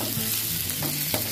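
Snakeskin gourami stir-fried with ginger in a pan, a steady close sizzle of frying with a few scraping stir strokes and no voices.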